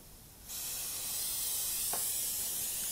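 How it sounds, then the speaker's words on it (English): Badger 200 airbrush, freshly fitted with a new head, starts spraying after a brief quiet moment and then gives a continuous bright airy hiss, near and even in level. "I've just put a new head on it and the airbrush is working"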